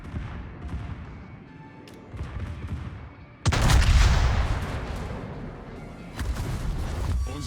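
Secondary battery guns of the battleship Tirpitz in World of Warships boom in rapid, overlapping volleys, with a heavy burst midway and another salvo near the end, rumbling loud and close under faint game noise.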